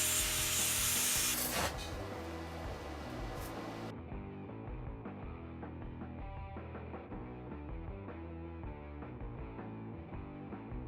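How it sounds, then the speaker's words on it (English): A hand file shapes a hole cut in a piece of rusty scrap steel to a round shape for a V-twin engine build. Brief, loud, steady rasping comes at the start before music takes over. "Drill a bunch of small holes, knock out the piece with a chisel, and file it to a round shape."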